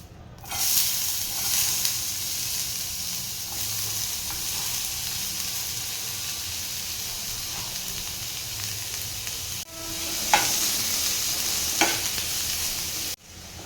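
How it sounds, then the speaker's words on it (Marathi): Finely chopped onion sizzles in hot oil for a dry karandi (small shrimp) fry, a steady loud hiss throughout with a couple of sharper spatters and clinks of a spoon toward the end; no voices. "तेल आहे ते गरम झालं, आता ह्यामध्ये बारीक चिरून घेतलेला कांदा घालून घेते"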